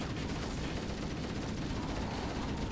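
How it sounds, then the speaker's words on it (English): Rapid, dense gunfire in the Halo: Combat Evolved video game, a continuous loud burst of overlapping shots with no pauses. "Now I have to waste bullets on you"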